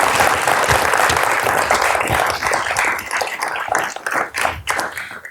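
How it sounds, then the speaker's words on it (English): An audience at a talk about SoFi Stadium gives a round of applause. The clapping is dense at first, then thins into scattered individual claps that fade out near the end. "Can I get a round of applause for Gerard?"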